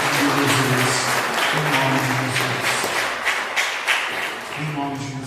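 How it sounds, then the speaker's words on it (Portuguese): A church congregation claps together in a dense, steady roll that fills the room, with a voice or music humming beneath it, tapering slightly toward the end. "aplauda o nome do Senhor Jesus"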